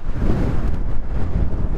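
Strong wind blasting into a microphone outdoors beside a Dualtron Raptor II electric scooter, a loud, steady, low roaring rumble with gusty fluctuations throughout.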